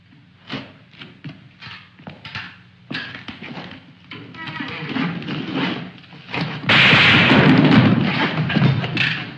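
A series of sharp thuds and bangs, some spaced apart, then a dense loud burst of gunfire and noise toward the end.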